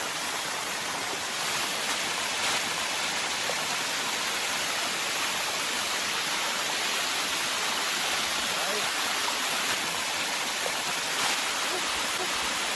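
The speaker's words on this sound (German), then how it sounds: "Das ist im Prinzip ein Wasserfall, den man hochklettern kann." Rushing water from a climbable waterfall, the Sticky Waterfalls near Chiang Mai, makes a loud, steady broadband roar that fills the whole span without a break.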